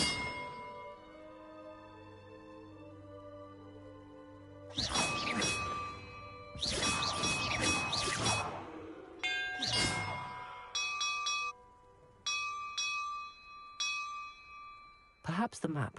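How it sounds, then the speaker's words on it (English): Bells rung in a puzzle in Hogwarts Legacy, ringing out in a series of bright clanging strikes with long ringing tails, some overlapping, others short and spaced, over a quiet background. "Perhaps the map contains clues about the order I'm supposed to ring the bells in."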